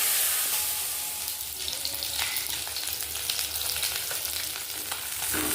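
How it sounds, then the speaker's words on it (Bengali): Fish pieces fry in a pan with a loud, steady sizzle and crackle, heard close up with no talking. "নিয়ে দেখো মাছগুলো কত সুন্দর ভাজা হয়ে গেল"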